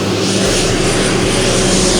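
An airplane passes overhead near Batumi, a loud, constant engine roar that fills the whole two seconds with no talking.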